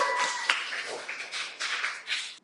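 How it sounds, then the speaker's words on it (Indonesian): A classroom group applauds a classmate, scattered mid-loud clapping from several hands running steadily for a couple of seconds before it stops. "Tepuk tangan untuk teman kalian."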